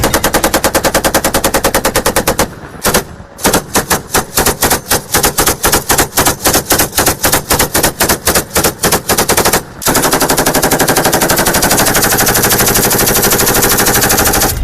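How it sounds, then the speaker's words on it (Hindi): Loud machine gun fire from Afghan soldiers battling Taliban fighters in Balkh province, rapid sustained bursts with brief pauses, then a dense continuous roar of gunfire near the end. "अफगान सैनिकों ने जवाबी हमले में मशीन गन से फायरिंग की।"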